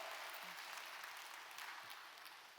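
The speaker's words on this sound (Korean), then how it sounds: "여러분 크게 박수로 환영하시죠" Applause in a church congregation welcoming two new ministry staff, a steady soft wash of many hands clapping at a distance, evenly sustained and fading slightly toward the end.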